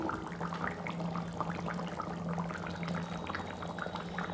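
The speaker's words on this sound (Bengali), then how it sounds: "এটা ফুটছে এখন" Spicy chicken curry bubbling in a pot, a soft, steady stream of small pops and gurgles with a low simmering hum underneath, fairly quiet and close.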